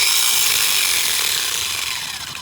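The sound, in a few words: car starter motor bench tested with jumper cables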